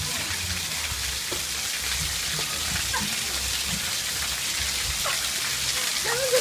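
Steady rain falls outdoors in a soft, even hiss of countless drops on surfaces, fairly faint and continuous throughout, with a few scattered louder drips and no voices.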